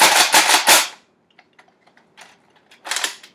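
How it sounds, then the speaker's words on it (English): A toy pump-action gun is slam-fired, producing a quick flurry of sharp plastic snaps, then scattered faint clicks of pumping, then another tight burst of snaps, all close and dry. "Pump and shoot. And then here's slam fire."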